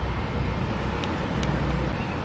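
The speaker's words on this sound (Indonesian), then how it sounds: "suaranya agak bising, banyak suara mobil, motor, suara kendaraan, karena memang Masjid Cengho ini tempatnya di jalan raya" Steady, dense roar of cars, motorbikes and other vehicles passing on a main road beside the Cheng Hoo mosque in Pandaan, continuous and moderately loud with a couple of faint high clicks.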